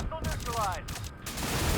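Rockets fire in rapid volleys in the sci-fi drone game Drone Sector, AC130-style gunship firepower, as a dense, continuous barrage of loud blasts and explosions with a voice talking over it.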